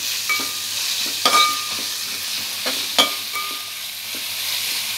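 Chilli chicken frying in a kadai over high flame gives a steady, loud sizzle, broken by a few sharp scrapes and clinks as it is stirred, close up with no voices.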